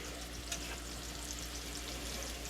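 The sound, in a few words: shrimp sizzling in frying pan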